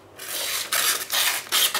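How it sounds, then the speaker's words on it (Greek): A dull knife blade drags through paper, tearing rather than slicing cleanly, in three loud, close rasping strokes separated by short pauses. "αυτό είναι λίγο στομωμένο γιατί βλέπετε το κατέστρεψε το χαρτί, να πρέπει απλώς να το σκίσει"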